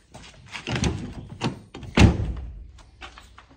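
A car door is pushed shut with one dull, solid thunk midway through, after softer rustling and handling noises close by.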